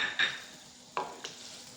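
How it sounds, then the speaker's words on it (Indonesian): A spoon stirs keumamah, a potato dish with coconut milk, in a pan, giving a few distinct scraping strokes over a soft simmer with no voices. "aduk rata"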